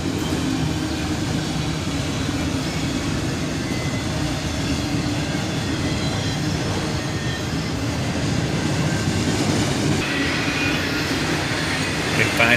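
A long freight train with Union Pacific and BNSF cars rumbles past close by, wheels clattering and squealing in a steady, loud roar that continues the whole time without letup.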